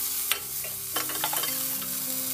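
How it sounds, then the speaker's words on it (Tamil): Onion, green chili and mint leaves with fennel sauté in a pan for parotta salna, a steady sizzle under sharp spoon clacks and scrapes as the mix is stirred, with no one talking. "வெங்காயம், பச்சை மிளகாய், புதினா இலைகள் கொஞ்சமா அந்த ஃப்ளேவருக்காக போட்டுக்கிட்டேன். நல்லா இதை வதக்கணும்."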